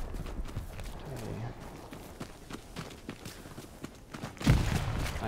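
Horse hooves clop across the ground in the World War II shooter Hell Let Loose, a quiet irregular run of hoofbeats amid distant game noise, ending in a sharp louder impact.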